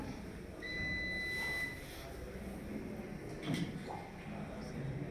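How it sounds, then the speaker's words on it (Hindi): A single steady electronic telephone ringing tone sounds for about a second, then fades into quiet room noise with a brief soft clatter. "मैं उन्हें अभी फोन लगाता हूँ"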